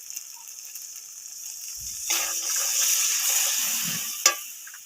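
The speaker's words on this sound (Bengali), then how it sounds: "এবার পরিমাণ মতো জল দিয়ে দেবো।" Water poured into a pan of frying, oil-separated masala for a gandhoraj malaikari, a sudden hiss and sizzle rising from quiet pan noise and holding steady, with a sharp splash near the end.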